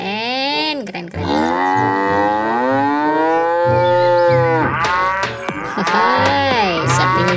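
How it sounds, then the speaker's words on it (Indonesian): A dairy cow moos loudly and close, giving several long drawn-out calls with short pauses between them, with no talk. "Di sini kita mendapatkan seekor sapi perah teman-teman."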